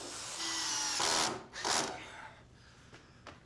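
A power tool drills into wood on a handyman workbench, a close whirring burst that rises and cuts out, then revs again briefly before fading to faint clicks.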